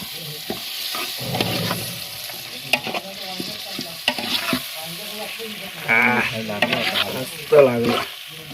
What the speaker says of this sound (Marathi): तर आता चिकन ऍड करतोय.